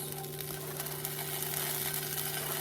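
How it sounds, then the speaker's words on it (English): Jalapenos sizzle steadily in a hot pan, a soft, even crackling hiss close by with no voices. "You hear that sizzling?"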